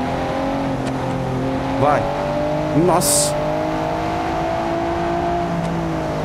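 In the My Summer Car video game, a powered-up Satsuma's engine holds a steady harmonic drone, rising in two quick rev blips close together. A single short word is spoken over it.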